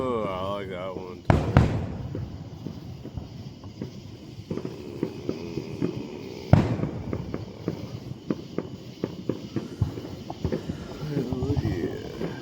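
Distant 4th of July fireworks over downtown Woodstock, Georgia, with a couple of loud bangs and a run of rapid crackling pops, heard under nearby crowd chatter and people talking.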